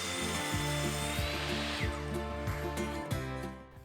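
A power saw cuts through a timber joist to make a spacer, a loud continuous whine with a rhythmic, repeating pulse that runs the whole time and eases off at the end.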